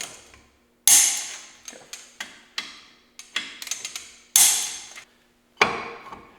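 A torque wrench tightens brake caliper bolts to 30 foot-pounds on a Jeep YJ, giving a series of sharp metallic clicks and ratcheting snaps at irregular intervals, close and crisp, separated by brief silences.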